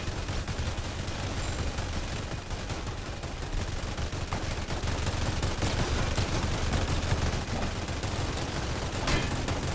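Minigunner towers in the Roblox Tower Defense game fire continuous minigun bursts, a dense, steady rattle of rapid gunfire with no talk, holding at a fairly even loudness throughout.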